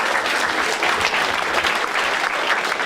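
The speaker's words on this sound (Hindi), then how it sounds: "एक बार ताली बजाओ इसके लिए।" Steady, dense applause from a comedy show audience, loud and continuous throughout, with no voices standing out.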